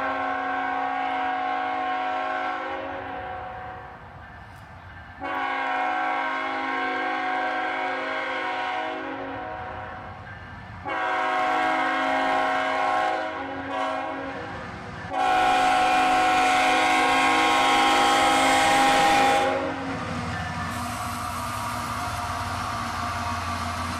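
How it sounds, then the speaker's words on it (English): A northbound autorack freight train led by a single ET44AH locomotive sounds its horn in four long, loud blasts separated by short gaps, the last blast the strongest, with a low engine rumble beneath. "A northbound autorack train, led by a single ET-44-AH"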